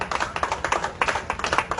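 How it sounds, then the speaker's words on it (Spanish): A church congregation clapping during an evening service, a fast, rhythmic run of claps from a group, close and fairly steady for under two seconds, with no voices over it. "Dale un aplauso al Señor"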